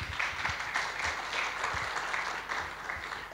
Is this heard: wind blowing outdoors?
no